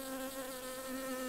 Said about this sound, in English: It's a wasp.